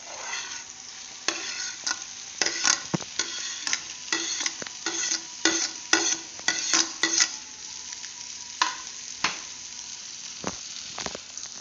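Ground egg mixture stirred in a frying pan for egg keema masala, with repeated bursts of spoon scraping over a steady sizzle and no talking.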